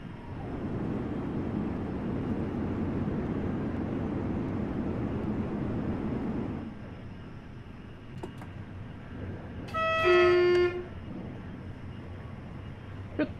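A model cargo train on a model railway rumbles steadily past, fades after a few seconds, then gives one short, clear horn toot.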